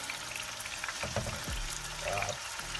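Thick-cut bacon frying in a pan gives a steady, close sizzle with bursts of crackle, broken by a few low thuds and scrapes as the strips are moved.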